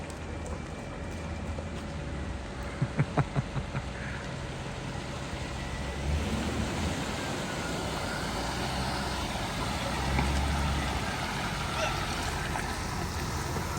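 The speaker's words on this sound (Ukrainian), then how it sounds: "Дивіться, як лендровер їде." A Land Rover driving through deep floodwater in Washington state, a broad steady rush of churning water and low engine rumble heard from nearby, with a few brief knocks early on and no speech.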